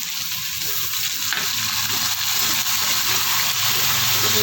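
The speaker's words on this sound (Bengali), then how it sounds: "এবার দেবো এর মধ্যে কাঁচা লঙ্কা বাটাটা" Green chili paste stirred into a hot pan, a loud, dense sizzle with steady frying crackle and the scrape of stirring, close up and continuous, no voices.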